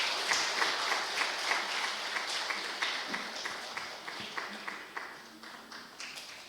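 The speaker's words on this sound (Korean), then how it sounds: "박수 한번 해주십시오." A church congregation at a Sunday service claps steadily, the applause gradually thinning and fading toward the end.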